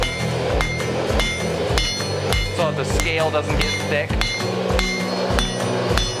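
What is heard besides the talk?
hammer striking hot steel while hand forging a medieval spike axe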